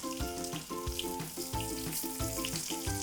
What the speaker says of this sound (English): Now just simply add the potatoes to the oil